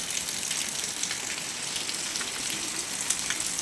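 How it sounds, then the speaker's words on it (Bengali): Heavy rain falls hard during an evening storm, a steady close patter and rush of drops on surfaces with no voices. "এবারে দেখো বৃষ্টিও শুরু হয়ে গেছে তারপর খুব জোরে বৃষ্টি হচ্ছে"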